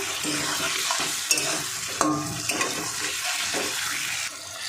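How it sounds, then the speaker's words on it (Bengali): Fried potatoes stirred into a spice masala frying in oil in a pan for a vegetarian curry, with steady close scraping and sizzling and a few sharper clinks of the utensil against the pan. "এবার আমি ভেজে রাখা আলুটা দিয়ে দেবো, মিশিয়ে নেব। 2 মিনিট মশলার সঙ্গে আলুটা কষাবো।"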